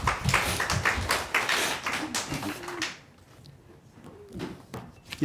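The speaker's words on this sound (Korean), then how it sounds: "하나님 앞에 영광 박수 올려드립니다." A church congregation claps during a Sunday morning service, a dense burst of many hands for about three seconds that then thins to a few faint, scattered claps and quiet room noise.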